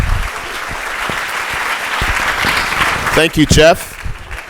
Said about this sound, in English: let's give Dr. Reddick a round of applause and welcome up here